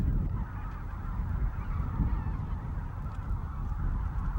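A large flock of wild geese flying over Cheorwon, a dense continuous chorus of honking calls layered together, loud and steady for several seconds with a rumbling background and no talking.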